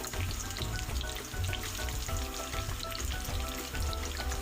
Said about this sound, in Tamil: அடுத்து சின்ன சின்ன பீஸாக நறுக்கி வச்ச வெங்காயம் இது கூட நான் சேர்த்துக்கிறேன்.